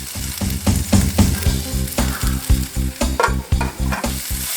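Steak chow mein with bean sprouts is stir-fried in a hot pan, giving a loud sizzle broken by rhythmic scraping and tossing strokes, evenly paced and close.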